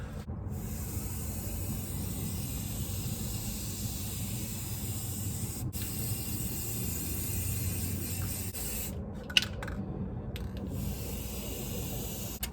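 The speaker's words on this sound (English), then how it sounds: "and we're ready to spray paint" A spray paint can hisses steadily as it coats a sweater, a continuous airy spray lasting most of the time with a few brief pauses and a small click near the end.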